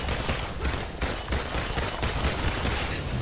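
Rapid automatic gunfire in the video game Marvel's Avengers, a loud, continuous barrage of close shots with a steady stuttering rhythm throughout and almost no voice over it.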